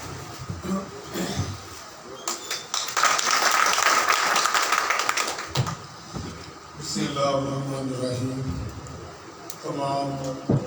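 Audience applause welcoming a guest to the stage at a central meeting of Tanzeem Al-Ghaffari Pakistan in Sangla Hill, a sustained burst of clapping mixed with voices, followed by a speaker beginning to talk.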